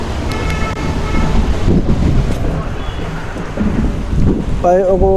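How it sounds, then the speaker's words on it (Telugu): Strong wind buffets the microphone with a loud, uneven rushing roar; a brief tonal chirp cuts in near the end. "గాలి అయితే మంచిగా కొడుతున్నది"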